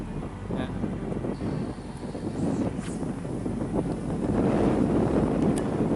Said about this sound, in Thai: นี่ลมแรงนะ